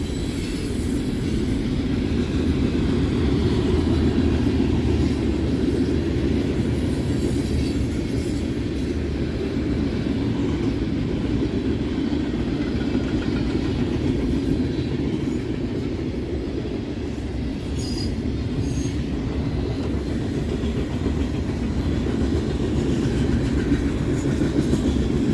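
A freight train with boxcars rolls steadily past, a loud continuous rumble with rail clatter and faint wheel squeal lasting throughout, no voices.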